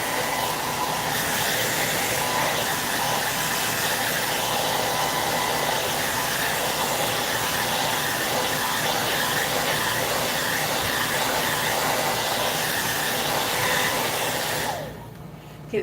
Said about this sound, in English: Here I am still yelling after the dryer.